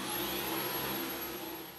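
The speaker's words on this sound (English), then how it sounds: "So let's keep vacuuming, guys." A Dyson V11 Absolute Extra cordless vacuum cleaner runs steadily as a room is cleaned, giving a close, continuous whirring drone at even loudness with no talk.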